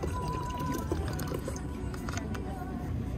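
Water pours into a glass at a restaurant table in Santorini, Greece, a steady trickling fill beneath a continuous bed of dining-room chatter and background noise.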